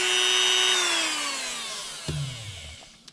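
A power drill fitted with a barrel-shaped carbide bit cuts into metal on a motorized bicycle build. Its high whine winds down as the motor slows, then a short low grind follows, close by.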